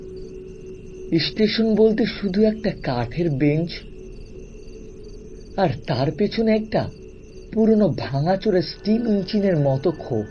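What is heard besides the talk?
crickets chirping, audio story sound effect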